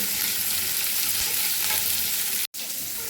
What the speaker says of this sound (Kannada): ಇದು ಕ್ಯಾರೆಟು, ಬೀನ್ಸ್ ಏನು ಹಚ್ಕೊಂಡಿದ್ದೀನಿ ಇದನ್ನು ನಾವು ಫ್ರೈ ಮಾಡಬೇಕಾಗುತ್ತೆ ಆಯಿಲಲ್ಲಿ.